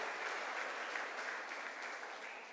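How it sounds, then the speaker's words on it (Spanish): A church congregation applauds during a Spanish-language sermon, a steady wash of clapping from many hands that fades slightly toward the end, with no voices over it. "Denle un aplauso al Señor."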